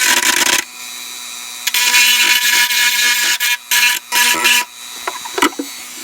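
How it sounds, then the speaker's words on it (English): A small rotary burr tool grinds at a burnt circuit board in loud, close, on-and-off bursts, with short whirring passes separated by brief pauses. "I'm going to try to clean up here with a little burr tool"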